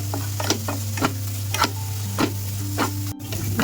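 Turmeric, coriander and chilli frying in a pan for a sour eggplant curry make a low sizzle under regular stirring scrapes, about two per second, with a steady background hum and no voices.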